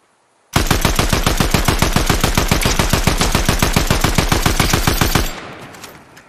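Automatic gunfire in Fortnite, a loud, close, steady stream of rapid evenly spaced shots lasting about five seconds before stopping abruptly, with no talking.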